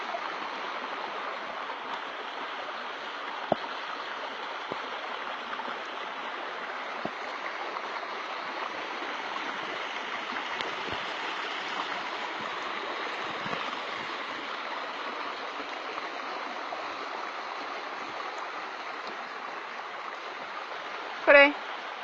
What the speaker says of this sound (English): Right up the friggin' river stream.